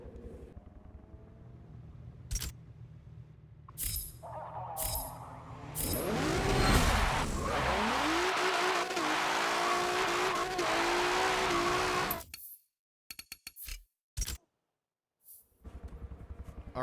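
Front-wheel-drive car in Forza Motorsport bouncing off the rev limiter, then a loud drop launch with screaming engine and tire squeal for several seconds, ending in an abrupt cut and short bursts of engine noise.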